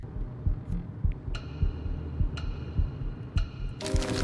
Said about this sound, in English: Listen to the heartbeat in the background.